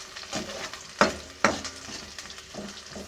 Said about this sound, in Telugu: కొంచెం దోరగా వేగనివ్వాలి ఉల్లిపాయ